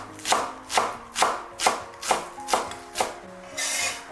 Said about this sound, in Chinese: 接下来再准备一把小葱，给它切成葱花